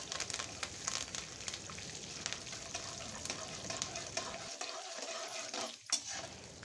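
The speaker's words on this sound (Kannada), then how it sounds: "ಕಡಲೆಬೇಳೆ ಉದ್ದಿನಬೇಳೆ ಎಲ್ಲ ಚೆನ್ನಾಗಿ ಫ್ರೈ ಆಗಿದೆ." Chana dal and urad dal with dried red chillies and curry leaves fry in hot oil, a steady close crackling sizzle with light stirring scrapes that thins out near the end.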